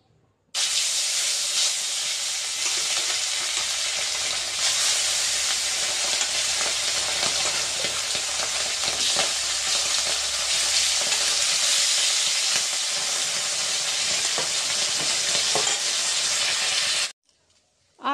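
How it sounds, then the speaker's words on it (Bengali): Fish frying in a hot wok (kadai) in a village kitchen, giving a loud, steady sizzle and hiss that runs almost unbroken for about sixteen seconds and then cuts off abruptly, with no talking over it. "এখন মাছ ভাজাটা দিব, মাছটা ভেজে নেই আগে।"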